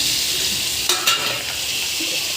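Cauliflower florets frying in hot oil in a pan, a steady loud sizzle throughout with a couple of brief scraping stirs near the middle, no voices.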